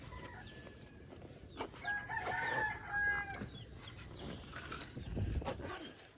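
A rooster crows on a small farm with pigs and chickens. The crow is moderately faint and comes amid light background clatter, with a few short calls spread across the span.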